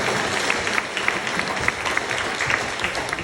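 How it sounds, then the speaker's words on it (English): A small group of visitors claps at a wildlife park after someone has a go at an activity, a brief steady patter of applause outdoors with a faint murmur of voices. "let's give a clap"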